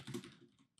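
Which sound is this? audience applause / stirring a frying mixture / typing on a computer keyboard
typing on a computer keyboard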